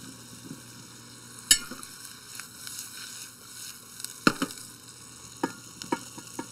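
Shallots frying in a pan ahead of pumpkin being added, a low steady sizzle with a few sharp clicks and scrapes of stirring scattered through.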